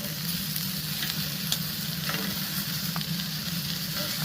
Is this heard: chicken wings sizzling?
yes